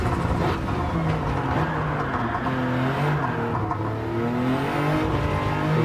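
Toyota GR Yaris three-cylinder engine in Gran Turismo 7, a steady, loud, close engine drone rising and falling in pitch as the car accelerates and shifts through gears, with no talking.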